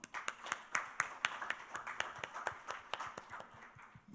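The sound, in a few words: audience clapping at a conference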